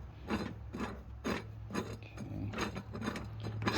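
A trike air filter housing being tightened down, giving repeated close ratcheting, grinding clicks in uneven bursts with no talking.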